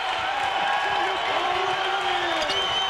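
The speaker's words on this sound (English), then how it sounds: "Crowd is into this one now" A basketball arena crowd at a Utah Utes versus Weber State Wildcats men's game roars in a sustained, loud wash of cheering, with a commentator talking over it throughout.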